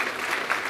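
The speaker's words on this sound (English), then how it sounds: "so I'm going to have these students stand so we can give them a round of applause" Audience applause at a school band spring concert, a steady wash of clapping from a seated crowd with no talk over it.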